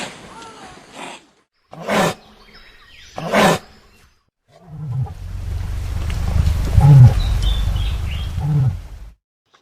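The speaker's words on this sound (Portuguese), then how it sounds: "Ouçam que impressionante o som de um casuar" Deep, booming cassowary calls: two short low rumbles followed by a longer, louder resonant roar, with quiet gaps between.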